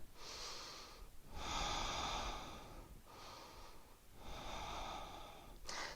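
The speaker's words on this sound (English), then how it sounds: "So just taking a nice deep breath in and out." Slow, deep breaths drawn in and pushed out during a yoga flow, heard close and alone as four long airy swells, inhales and exhales alternating with short pauses between them.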